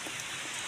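Heavy rain falls steadily on a banana planting plot, a dense, even hiss of drops with no voices over it.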